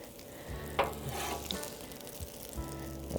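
Guanciale frying until crispy in a pan, a soft, steady sizzle at a fairly low level with a few faint clicks and scrapes.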